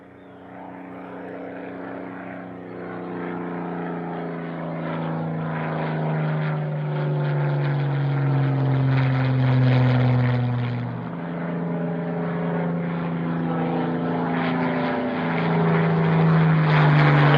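A propeller aircraft, one of a formation flight, takes off with a loud, close engine drone whose pitch slides and rises as it passes, with a strong buzzing tone and no talk.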